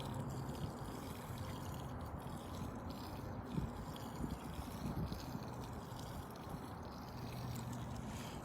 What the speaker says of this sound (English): just coming back and putting a little bit of water down there